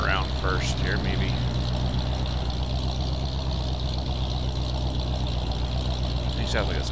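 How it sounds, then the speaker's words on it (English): Farm tractor engine in the Farming Simulator video game idling at an unusually high speed, a steady continuous drone running the whole time, with brief faint voice sounds near the start and end. "It sounds like it's idling kind of high,"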